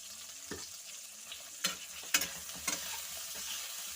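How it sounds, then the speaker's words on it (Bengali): Pointed gourd (potol) fries in oil for a fish curry, a soft steady sizzle under a few sharp stirring scrapes and clinks of a spatula against the pan. "পটলগুলো একটু লাল লাল করে ভেজে তুলে নেব।"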